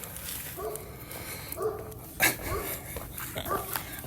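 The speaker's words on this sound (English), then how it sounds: "Dog does not like us over here." A dog barks and yips from some distance outdoors, a few short sharp barks spaced irregularly over a faint background.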